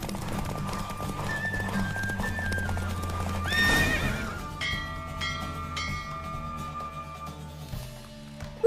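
A horse gallops in a race in The Witcher 3 video game, hooves clip-clopping steadily under whooshing game sounds, with a sharp whinny partway through and a brief tonal sting at the end.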